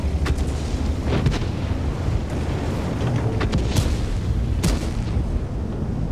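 Artillery and explosions from the World of Tanks game, a dense continuous rumble of booming blasts with several sharper cracks standing out over a loud, sustained low roar.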